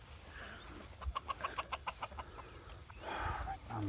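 Hens on a backyard farm cluck in a quick run of sharp, close calls, then settle into softer murmuring with a little rustling.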